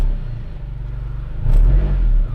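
A Honda Civic fitted with new racing engine mounts idles with a low rumble on its first start, then revs up more loudly partway through, close and steady with no talking.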